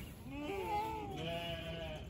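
Finnsheep lambs bleat in a barn on a farm in the morning. There are several wavering, rising calls close by, overlapping one another, with faint background noise and no speech.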